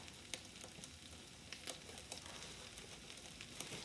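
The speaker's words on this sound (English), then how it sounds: "I want to show you another option while I'm here. And that is to fry up the corn tortillas." Corn tortillas fry in hot lard with a faint, steady sizzle and soft crackling pops scattered throughout, quiet and alone with no talking.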